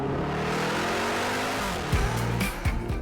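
Lamborghini Urus V8 under hard acceleration, a loud sustained exhaust roar that climbs in pitch and then breaks into sharp barks as the gears change, with no talking.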